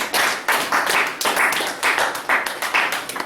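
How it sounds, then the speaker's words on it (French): Rhythmic hand clapping as acclamation during a French-language church service, steady loud beats about every half second continuing throughout. "Acclamation pour le Seigneur"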